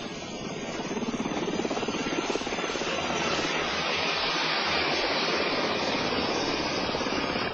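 A US Army Black Hawk helicopter flies in a demonstration, its steady, loud rotor and turbine roar continuous and close throughout with a rhythmic blade thump underneath.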